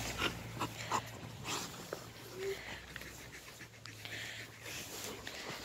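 A dog pants in quick, rhythmic breaths close by, soft and continuous with a few snorts, while a person speaks briefly in the background.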